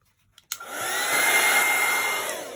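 A hair dryer blows steadily onto stencilled junk journal paper, switching on after a brief click and running as a loud, continuous whoosh close to the microphone, with no voices.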